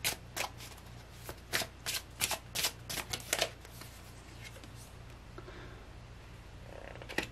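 Tarot cards are shuffled in a quick series of crisp riffling snaps during the first few seconds, close and fairly loud, then the sound stops and only a low steady background hum remains.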